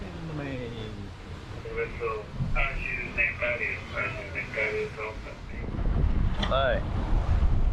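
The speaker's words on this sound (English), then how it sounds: "Yeah, enough wind." Strong wind gusting over a Gunboat 68 catamaran sailing at sea on a transatlantic crossing, a rough buffeting rush with microphone wind noise that grows heavier toward the end, while people talk over it.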